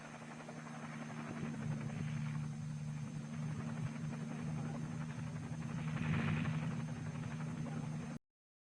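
A military helicopter lifts a Little John rocket and its prime mover slung outside during an airborne test. Its rotor and engine drone loud and steady throughout, then cut off abruptly.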